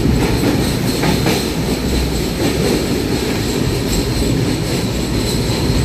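A train rolling toward Farakka and New Farakka on the Kolkata to New Jalpaiguri run rattles along loudly and continuously, its wheels clattering over the rails with a dense, steady clickety-clack and faint squeals, with no voices.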